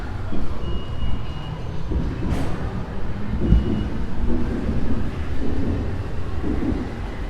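Metro train in Kuala Lumpur, a steady low rumble and rattle of the carriage in motion heard from inside, with occasional clunks and a brief squeal, no voices.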